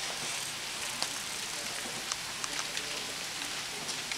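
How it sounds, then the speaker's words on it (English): Rain falls outside, a faint, steady hiss of patter with a few sharper drops ticking through it. "Is it raining?"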